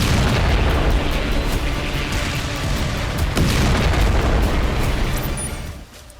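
Airstrike explosions in Gaza make a loud, dense rumbling boom with heavy crackling that sustains for several seconds before cutting off abruptly near the end, with no talking.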